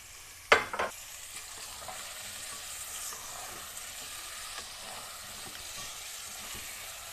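Meat, about a kilo, frying with a generous amount of onions as it is stirred, giving a sharp utensil clatter at the start and then a quiet, steady sizzle with faint scraping.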